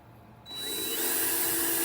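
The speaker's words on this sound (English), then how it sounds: "I'm going to blow out our debris." Compressed air blasts debris out of a freshly drilled 1/8 inch hole in a metal flange for a Bugwall fast track rail, a loud steady hiss starting abruptly and continuing close to the microphone.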